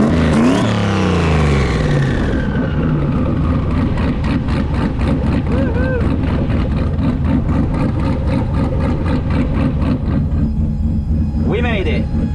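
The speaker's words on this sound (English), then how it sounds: "Here the car is running." A drag race car runs at Tulsa Raceway Park, its engine revving up sharply then settling into a loud, lumpy, throbbing idle with rapid pulsing firing beats, while a person talks over it near the start.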